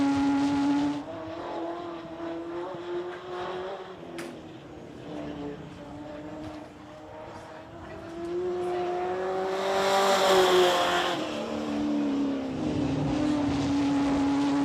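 Modified race cars circle a short oval track, their engines droning and rising and falling in pitch as they sweep past, with one car swelling loudly close by before receding, while a faint announcer voice sits in the background.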